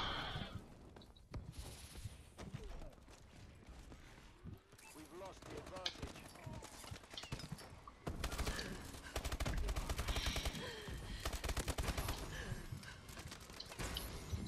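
Rapid shotgun and automatic gunfire in the Call of Duty: Advanced Warfare multiplayer hardpoint mode, dense bursts of shots crackling throughout, heaviest in the second half, with a player talking underneath.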